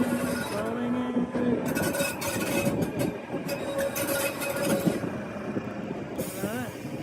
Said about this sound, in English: There's the train, man.